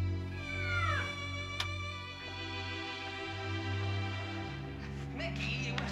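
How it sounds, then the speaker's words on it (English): A cat meows several times at close range, with curving, drawn-out cries rising and falling against a steady low hum in the background. "it was just a cat"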